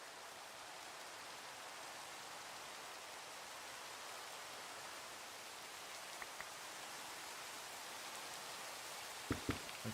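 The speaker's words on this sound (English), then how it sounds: "It's raining really" Steady rain in the Minecraft Terrafirmagreg modpack, a soft even hiss of falling drops with a few faint clicks near the end, no voices.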